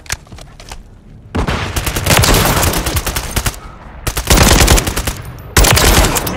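Rapid automatic gunfire from Call of Duty Modern Warfare III team deathmatch, loud and close, in sustained bursts with short lulls between volleys.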